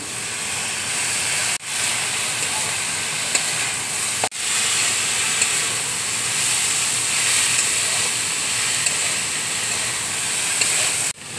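Potatoes fry in hot oil in a pan with curry leaves and turmeric, giving a steady loud hiss and sizzle throughout, broken by a couple of brief sharp clicks.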